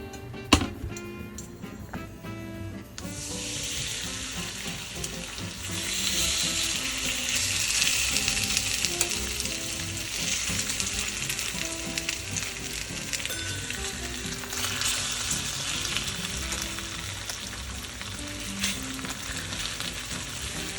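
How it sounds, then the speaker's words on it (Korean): Potatoes spread over a pan generously oiled and preheated, hitting the fat with a sudden loud sizzle after a few utensil clinks, then a steady dense crackling fry that holds strong throughout. "팬에 기름을 넉넉히 두르고 예열한 뒤 감자를 골고루 펴서"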